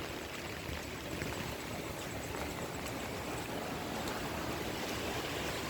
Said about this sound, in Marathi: आमच्या शिरवली गावात लय मोठा पूर आलेला आहे नदीला